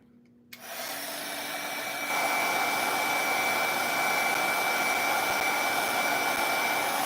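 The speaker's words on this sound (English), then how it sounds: "I'm going to give that a quick little shot with my dryer." A hair dryer blows a steady, loud, close airflow onto wet paint for daffodil petals, switching on abruptly and strengthening after a moment, then holding a constant whooshing roar with a faint high whine.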